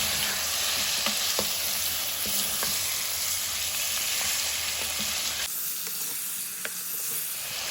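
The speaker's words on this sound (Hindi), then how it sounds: "अब हम इसको अच्छे से लगातार 2 मिनट भून लेंगे।" Chicken fries in a pan with ginger garlic, giving a loud, continuous sizzle broken by occasional stirring scrapes and clicks. The sizzle drops sharply partway through, then continues more quietly.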